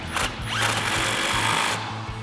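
A 24mm socket on a power tool runs down the strut top mounting lock nut of a 1994-2004 Mustang's adjustable front strut, giving a steady close whirring drill buzz that lasts throughout with brief stutters near the end.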